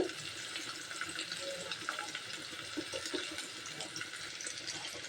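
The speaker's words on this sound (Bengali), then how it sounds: "আমি মরিচ পেঁয়াজগুলা হালকা একটু ভেজে নিয়েছি" Chopped onion and green chilies frying lightly in oil in a pan for a Bengali rohu fish curry with yardlong beans and potato, giving a steady, soft sizzle throughout with faint stirring.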